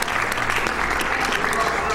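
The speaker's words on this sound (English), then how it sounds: "You can clap if you want." Steady applause from a live event audience after a boss fight in Super Star Wars: Return of the Jedi, a dense, even wash of clapping that runs the whole time without breaks.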